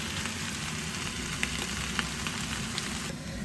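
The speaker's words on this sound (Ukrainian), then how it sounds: "Як тільки гриби підсмажились е, до золотистого кольору, додаю трішки олії і ще деякий час підсмажую" Mushrooms frying in a pan with onion and garlic give a steady, dense crackling sizzle throughout, with a few sharper pops near the end and no voices.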